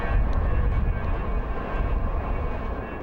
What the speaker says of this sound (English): That's the sound of a turbine.